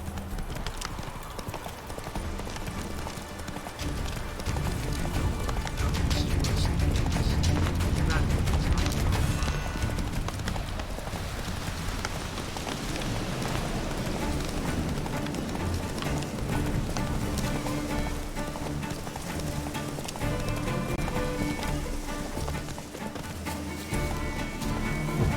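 Roach, the horse in The Witcher 3 game, galloping with loud, steady rhythmic clip-clop hoofbeats throughout, close and continuous, with a voice talking over it at times.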